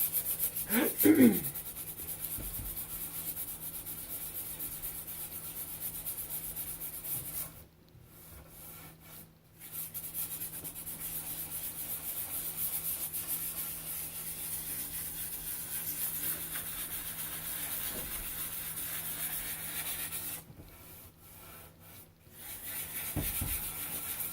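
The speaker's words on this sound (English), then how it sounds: "You just want to barely sand it really lightly." Hand sanding of the wood finish on a bedroom furniture set, a steady, soft rubbing scrape that runs close and continuous with two short pauses, and no talk.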